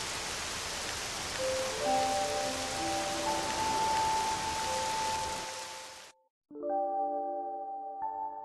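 Steady rain hisses across a scene in Octopath Traveler 2 as soft chime-like tones layer above, then the downpour cuts out abruptly, leaving only sustained bell-like notes ringing alone.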